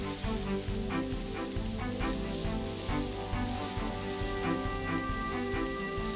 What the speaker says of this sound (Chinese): 去骨牛小排在高温炙烤之下滋滋作响